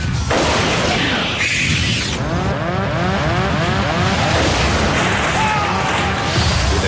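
An aircraft cockpit windscreen blows out at 17,300 feet with a huge explosion, a loud burst followed by a sustained roaring rush of wind and noise that fills the whole stretch.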